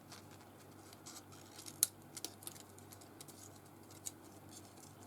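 Scissors make soft, faint snips and small clicks while cutting around the ends of a handmade bauble, scattered irregularly over a quiet room background.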